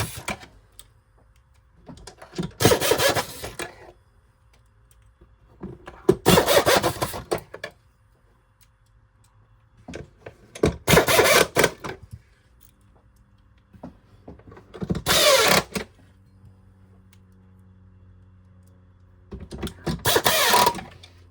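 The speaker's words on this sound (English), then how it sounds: "now we've got our 7 screws to put in the back" A power screwdriver drives screws into the back housing of a Riccar R25S vacuum during a cord repair. Five separate whirring bursts, each a couple of seconds long, are spaced by quiet pauses.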